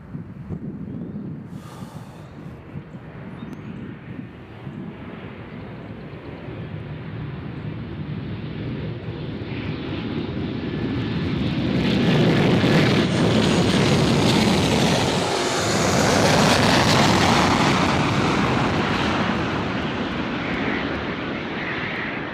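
A Delta airliner at Nashville International Airport roars loudly as its jet engines build into a sustained rumble and whine, then swell to a peak before slowly easing off.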